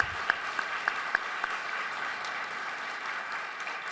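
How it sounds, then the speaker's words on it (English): Steady applause from an audience at an awards dinner for Chicago CFOs fills the room, a dense wash of many hands with a few sharper nearby claps standing out at first, then continuing evenly. "Please give them a round of applause."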